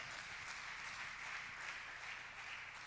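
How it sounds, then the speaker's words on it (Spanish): A church congregation claps steadily and continuously, a dense, even wash of applause that holds at a constant level throughout, heard from a moderate distance. "Dale fuerte el aplauso a Dios"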